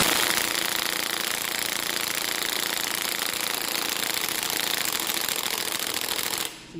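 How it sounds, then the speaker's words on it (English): A Snap-On large impact gun hammers steadily at a stubborn 10 mm bolt during timing and head removal on an EJ207 engine swap into a GC Impreza, a continuous loud rattling burst that cuts off abruptly near the end. "This is a snap-on big gun, but even though it's a snap-on big gun, the amount of torque required to break this loose is astronomical."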